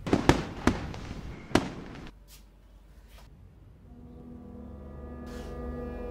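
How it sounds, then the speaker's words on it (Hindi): Sky shot fireworks go off in a quick series of sharp cracking bursts, followed by a lingering low rumble and faint distant pops fading out. "अब तो मन करता है आराम से छत पे लेट के आसमान में रंग बिरंगे स्काई शॉट देखो"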